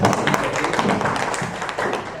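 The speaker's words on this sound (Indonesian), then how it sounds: "tepuk tangan untuk kalian semuanya" A classroom of vocational high school students claps for one another, a dense, steady patter of many hands close by that continues evenly throughout.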